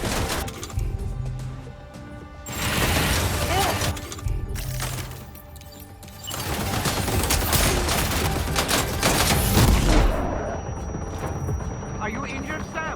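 A volley of gunfire crackles in dense bursts over a continuous roar of battle noise, with voices shouting and talking throughout.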